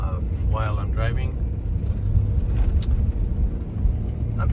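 A car driving on a road, a steady close rumble of engine and tyres running throughout, with a person talking briefly over it at the start.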